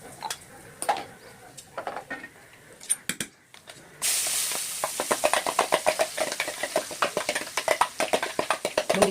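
A tempering for pav bhaji hits a hot pan and bursts into a loud, broad hiss halfway through, then keeps sizzling with rapid crackles and utensil clatter after quieter handling noises at the start.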